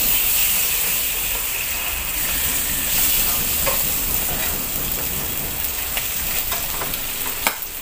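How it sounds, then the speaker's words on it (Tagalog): Chop suey ingredients fry in a pan with liver and chicken breast, giving a constant loud sizzle and hiss broken by occasional clinks and scrapes of stirring. "Pwede na natin ipreto dito diyan."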